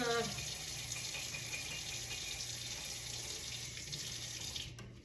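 Soaked nuts being rinsed and drained in a kitchen sink, with tap water running in a steady, close rush that fades slightly at the end, no talking over it.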